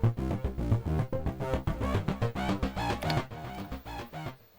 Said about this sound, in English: So I have loaded up a copy of Arturia's ARP 2600.